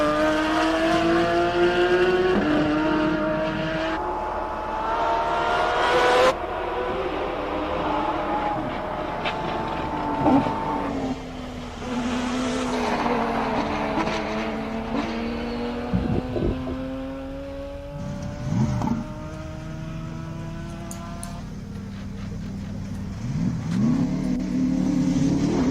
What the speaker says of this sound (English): let's enjoy the sounds of these monsters going up